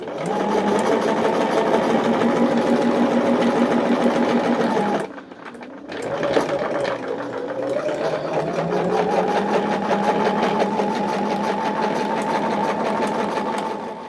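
A sewing machine stitches fabric with light-colored thread for a picnic caddy, a loud steady close motor whir with rapid needle chatter, a brief pause near the middle, then running again at an even pace.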